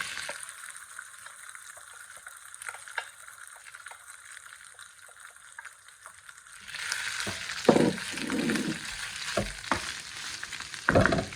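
Chicken pieces dropped into hot oil with cumin seeds sizzle and fry loudly at close range, the hiss swelling sharply partway through with stirring clatter and spattering crackles.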